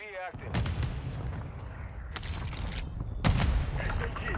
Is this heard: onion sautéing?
no